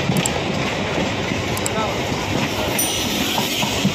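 Local train pulling into Krishnanagar City Junction station, a steady broadband rumble and rail roar held throughout at close range, with no clear wheel clatter standing out.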